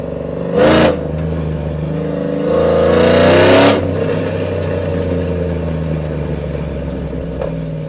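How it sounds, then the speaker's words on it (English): A cammed Chevrolet Silverado 5.3L V8 with long-tube headers rumbles at idle, then revs sharply twice in loud bursts before settling back to a steady low growl. "They love the sound of that V8."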